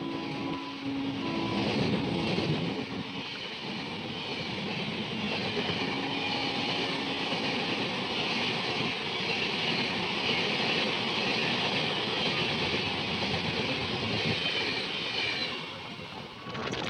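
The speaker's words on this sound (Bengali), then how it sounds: "একটা ট্রেন আসছে দেখো।" A train approaches near Puri station, heard from aboard another train as a continuous loud rumble and rail clatter lasting throughout, with no talking.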